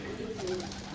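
Pigeons coo on a rooftop, giving a soft low burbling call close by over faint background noise.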